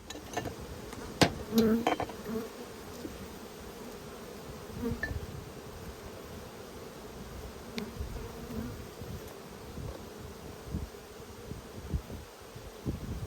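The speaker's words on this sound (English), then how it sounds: "lot of bees returning for the night." Busy buzzing of many honey bees swarming around a hive as they return for the night, a constant low drone with a few louder passes close by and faint knocks.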